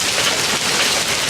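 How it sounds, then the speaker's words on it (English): Heavy hail and rain pounding down during a storm in Charleston, South Carolina, a dense, steady roar with no break, close and loud. "It's another downpour."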